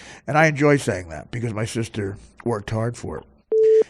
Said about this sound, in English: We do have the call waiting. That was call waiting.